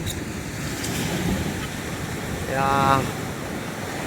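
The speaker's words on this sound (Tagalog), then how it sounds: "Medyo malaki ang alon ngayon." Large ocean waves roll and wash in a steady surf roar, with wind buffeting the microphone. A brief surge swells near the end, and a voice speaks a single word.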